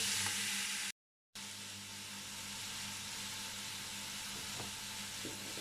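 Meat browning in a pan with a small piece of butter sizzles steadily at moderate volume, a soft continuous crackle broken once by a short silent gap.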